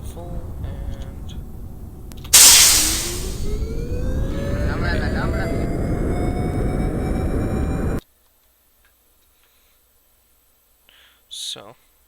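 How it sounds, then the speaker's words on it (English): Jet engines spool up to full power for takeoff in Kerbal Space Program. A sudden loud roar rises in pitch and holds steady for several seconds, then cuts off abruptly into near silence with a brief faint sound near the end. "Brakes off. Engines at full."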